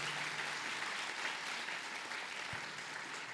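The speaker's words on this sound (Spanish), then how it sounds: "un aplauso" Audience applause at a book launch event in Colombia, steady dense clapping that holds evenly from start to finish without any voices over it.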